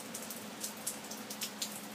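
Steady rain falls with a soft, even hiss and scattered brighter drops pattering on a surface, fairly faint and continuous with no voices.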